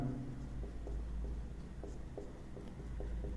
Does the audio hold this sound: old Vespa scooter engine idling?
no